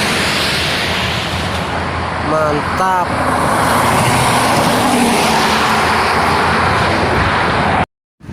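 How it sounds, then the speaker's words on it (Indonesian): A bus on the Trans Java toll road rushes past in a long, loud whoosh of engine and tyre roar, with someone speaking briefly at the start. "Ini dari timur menuju barat ada bis"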